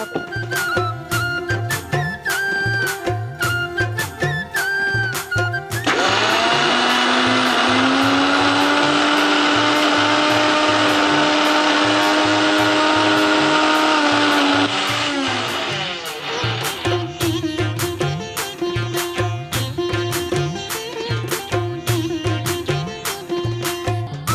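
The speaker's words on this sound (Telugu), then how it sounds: "సో నేను మిక్సీ పట్టుకుని వచ్చేస్తాను అయితే." A mixie blender grinds black-eyed pea batter for garelu in a home kitchen, a loud, steady whirring roar lasting about nine seconds that starts and stops abruptly, with background music before and after.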